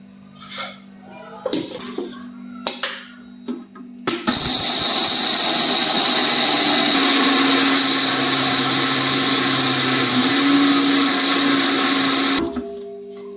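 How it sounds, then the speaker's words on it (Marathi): A kitchen mixer grinder whirs loudly and steadily for about eight seconds as it grinds jowar (sorghum) grain into fine flour. A few clicks and handling knocks come before the motor starts, and it then stops abruptly. "ज्वारीला आपण मिक्सरच्या पॉटमध्ये टाकू आणि ह्याला पूर्ण बारीक काढायचं आहे आपल्याला"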